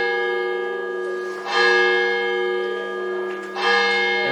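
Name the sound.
church bells ringing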